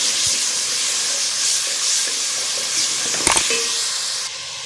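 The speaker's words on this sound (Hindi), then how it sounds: "अब अच्छी तरह भुनाई कर लेंगे इसकी" Garlic-ginger paste and spices roasting in a pan for baingan bharta, giving a steady close hiss and sizzle throughout, with a brief clatter near the end.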